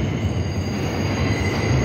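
New York subway Q train heading toward Coney Island, a loud close rumble of wheels on track with a high steady squeal, no voices.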